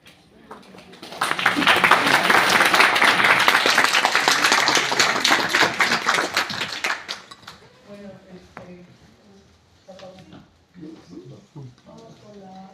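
Audience applause at a round-table event on World War II, a dense burst of clapping that swells for about six seconds, then fades into scattered claps and murmured voices.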